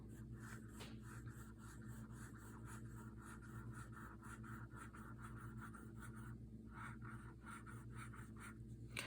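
Leonardo Momento Zero fountain pen with an EF nib scratching across paper, a faint close series of short scraping strokes in an uneven writing rhythm.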